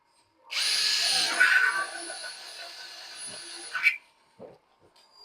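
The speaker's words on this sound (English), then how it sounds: "you use drilling machine to bore a hole here" A drilling machine bores a hole in a door key, a loud high whine lasting about three seconds that stops abruptly and is followed by a few faint knocks.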